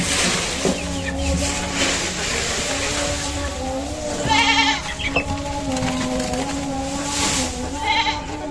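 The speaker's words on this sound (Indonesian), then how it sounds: "sekarang mau makan, kasih makan kambing guys" Goats bleat repeatedly at feeding time, with wavering calls from several animals, some close and loud, overlapping against a steady outdoor background.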